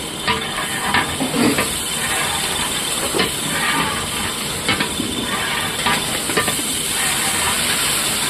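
Green jackfruit frying in a large pot with onion, garlic and ginger masala, enough for 500 people, gives a steady loud hiss and sizzle with occasional clatter from stirring.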